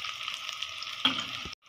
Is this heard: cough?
no